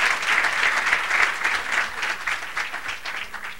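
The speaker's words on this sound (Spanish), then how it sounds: "Caluroso aplauso para don Gilberto." An audience applauds warmly after a talk at a conference, with steady, dense clapping from a room of listeners that holds at an even level for several seconds.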